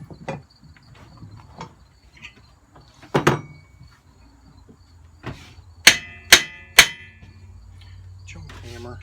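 Sharp metallic hammer strikes on a pulley puller fitted to a Kohler 14 hp engine, a few scattered knocks then three loud ringing blows in quick succession.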